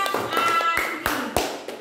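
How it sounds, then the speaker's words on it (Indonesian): A classroom of students clapping for a group that just presented, a few sharp separate claps standing out over a teacher's voice and background chatter. "kita tepuk tangan dulu"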